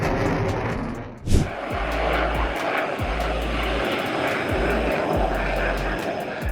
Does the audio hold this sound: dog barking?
no